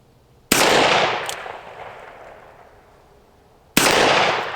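Two loud, close shots from a Henry Big Boy .357 revolver fired at steel plates, about three seconds apart, each with a sharp crack and a long decaying echo, one faint ping in between.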